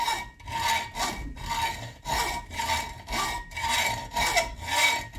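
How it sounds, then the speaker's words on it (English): A hand saw blade cuts along a scribed line on metal in steady back-and-forth strokes, about eight rasping passes in five seconds, close and alone. "And as I'm using the saw blade, I'm watching my line."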